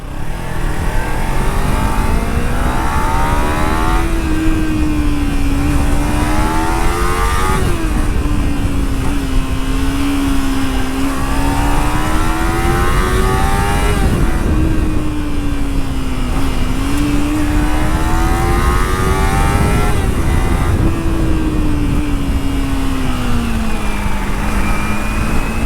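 A Kawasaki Ninja 300 two-cylinder motorcycle engine is revved close by, loud and alone, its pitch climbing and falling in long repeated sweeps about every six or seven seconds.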